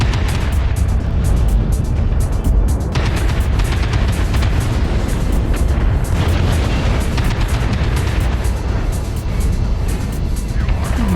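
Mechwarrior Online battle with a Madcat MK II-B firing its AC-20 autocannon: a dense, continuous barrage of loud booming shots and explosions stacked on top of one another for the whole stretch, with no voices.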